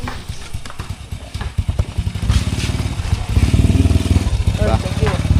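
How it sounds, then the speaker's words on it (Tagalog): Motorcycle engine idling and being run up after a gear-oil service, a close, chugging putter with rapid firing pulses that grows louder and steadier over the last seconds. "So tetestingin ko muna yung motor, mapaikot-ikot muna."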